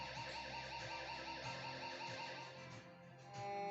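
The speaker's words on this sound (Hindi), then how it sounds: "दहनशील गैस रिलीज अलार्म" A Saudi Aramco combustible gas release alarm: a loud electronic warble in quick, even pulses, repeating rapidly and continuously with no voices.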